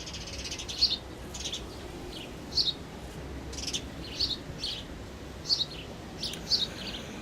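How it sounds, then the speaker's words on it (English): Pet birds chirp in short, bright bursts from a short distance, spaced every second or so over a quiet, steady background hush, with no one talking. "listening to my needy little birds up here"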